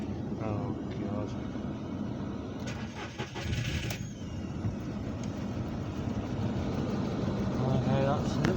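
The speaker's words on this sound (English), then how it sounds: "It might struggle to start because it's got an engine fault" A VW Polo with an engine fault cranking and catching, then running with a steady, rough mid-pitched drone close by, while people talk over it.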